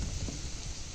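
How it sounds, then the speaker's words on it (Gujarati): Heavy rain pours steadily over a groundnut field in Gujarat, a dense, continuous hiss with low rumbling underneath, close and unbroken throughout with no voices. "કેવો વરસાદ આવ્યો છે"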